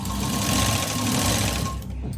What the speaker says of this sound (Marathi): पहा सेंटरला शिलाई घेणार आहे मी, पट्टीच्या कडेला नाही, सेंटरला.